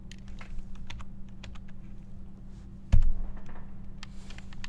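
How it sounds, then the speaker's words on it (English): Keys tapped on a computer keyboard in scattered, irregular clicks, with one louder thump partway through, close by over a low steady hum and with no talking. "actually I had to use the keyboard to get that down"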